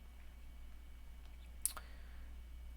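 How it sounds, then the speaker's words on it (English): A single sharp computer mouse click with the Ctrl key held, close and quiet, followed by a faint second tick over a low steady room hum. "we're going to go ahead and control and left click"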